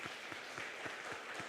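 A church congregation at a Taiwanese-language Sunday service applauds, a moderately distant, even patter of many hands with a slightly rhythmic pulse, brief and with no talk.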